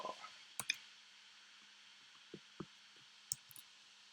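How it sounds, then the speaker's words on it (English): Sparse, faint computer keyboard keystrokes, a few isolated clicks spaced unevenly over a low steady hum, with no talking. "Just typing the whole thing out."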